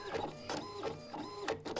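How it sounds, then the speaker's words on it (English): An in-game printer in the game SIGN runs through a print job, a loud, close mechanical whir with rhythmic pulsing strokes about every half second and no talking. "Oh, we're now printing."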